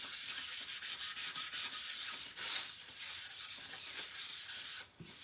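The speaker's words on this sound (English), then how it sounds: "I'm going to do a quick little just light sand with that there." Light hand sanding on a wooden snow globe, a soft rhythmic scratchy rubbing in quick repeated strokes, close and steady with a short pause near the end.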